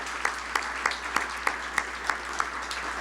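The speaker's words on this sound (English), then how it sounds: "All right, give yourselves a round of applause." Audience members at a United Way campaign kick-off event applaud themselves, a steady wash of clapping with a few sharp, rhythmic nearby claps standing out.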